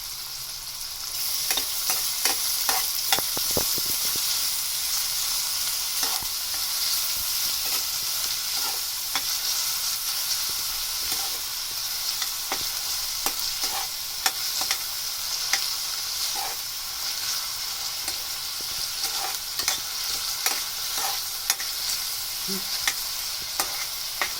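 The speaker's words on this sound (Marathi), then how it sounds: "थोडा वेळ परतायचा कांदा, 2-4 मिनिटं." Salted onion sautéing in a pan for an eggplant curry, a steady bright sizzle with frequent scraping stirs of a spatula, close and continuous with no voices.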